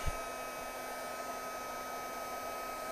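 An electric heating tool for melting plastic whirs in a steady, even blowing hum after a short click as it switches on, close and unbroken.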